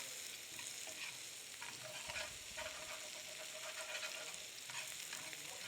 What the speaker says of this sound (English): Stir it around a little bit. Again, I'm going to scrape up more of those good bits with all that flavor.